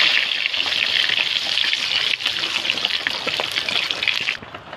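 Loud, steady crackling hiss of cumin, bay leaves and dried chillies frying in hot oil, dense and continuous, easing off slightly right at the end.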